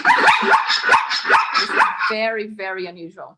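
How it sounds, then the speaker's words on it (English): A zebra gives a series of sharp, barking yelps that run into a drawn-out, whinnying bray, loud and close, with a person speaking briefly over the calls. "This is the zebra."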